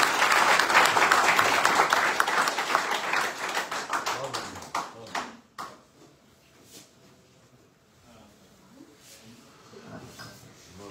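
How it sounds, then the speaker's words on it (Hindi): Audience applause at a business gathering after a widow's story, loud dense clapping for about five seconds that dies away into a few scattered claps and quiet room noise. "एक बार जो तालियां बजाएंगे।"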